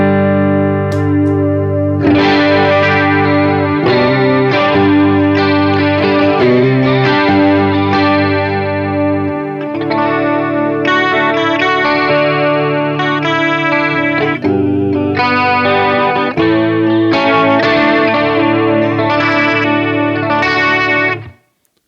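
Clean electric guitar played through a Walrus Audio Julia chorus pedal, sustained chords and arpeggiated notes shimmering with a heavy, wobbling modulation, loud and steady for about twenty seconds with no voices.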